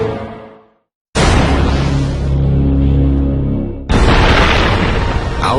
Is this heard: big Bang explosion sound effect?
yes